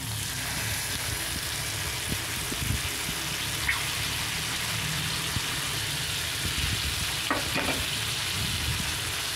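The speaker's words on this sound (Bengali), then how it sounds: "এবারে দিয়ে দিচ্ছি পেস্ট করে রাখা মশলা" Spice paste sizzling and frying in a pan for a potato dum dish, with a steady hiss throughout and occasional stirring scrapes and clinks, no voices.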